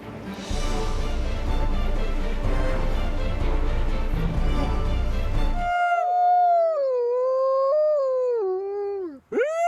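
Wolfdogs howl nearby, first a dense chorus of overlapping howls and yips, then a single clear, loud howl rising and falling for several seconds.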